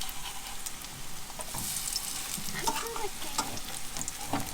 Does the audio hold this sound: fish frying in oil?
yes